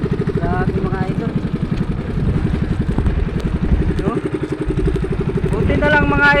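Boat engine chugging steadily through big waves at sea, a continuous loud rhythmic thrum that runs throughout, with voices talking over it.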